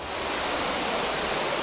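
Wells Gray waterfall in British Columbia roars as a steady, loud, broadband wash of falling water, constant and close with no voices over it.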